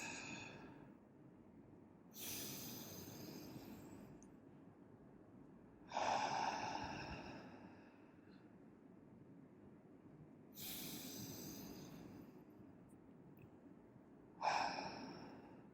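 Slow, paced breaths in and out during a guided breathing exercise, each one audible and drawn out, separated by quiet pauses of a few seconds, close and fairly soft.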